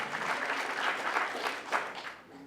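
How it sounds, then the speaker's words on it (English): Crowd at a retirement party clapping warmly, a sustained round of many hands applauding nearby that thins out toward the end. "Yeah, clap it up,"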